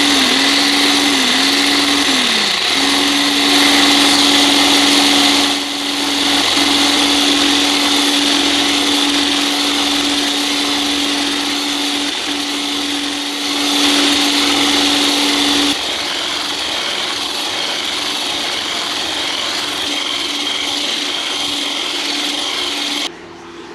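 An electric mixer whips cream for homemade vanilla ice cream until stiff, a loud, steady motor whine running near-continuously with slight shifts in pitch and load before cutting off at the end.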